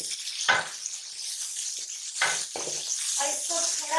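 Chopped tomatoes and green chillies hit browned onions in a hot pan, giving a soft hiss and sizzle with a few stirring scrapes.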